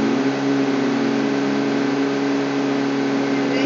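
Several vehicles approach in PUBG Mobile, a continuous, loud engine hum and whir holding steady throughout, with no talk over it.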